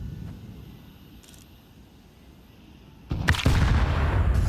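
A grenade blast in a Counter-Strike match during a PGL Masters Bucharest 2025 playoff game between Team Liquid and FlyQuest, a sudden loud burst after a quiet stretch, followed by a sustained heavy rumble.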